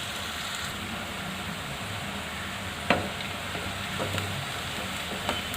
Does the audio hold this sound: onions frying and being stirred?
yes